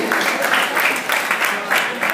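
An audience at a rap battle applauds a rapper, a steady wash of clapping and cheering with voices mixed in throughout.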